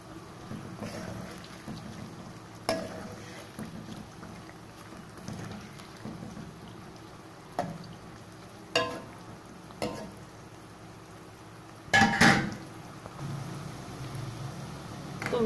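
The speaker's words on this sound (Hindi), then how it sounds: "इसको 3 से 4 मिनट हो चुके हैं फ्राई होते हुए" Bitter gourd (karela) frying in a pan, a soft steady sizzle with periodic scraping and clattering of stirring, close and fairly quiet.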